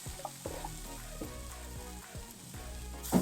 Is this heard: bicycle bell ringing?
no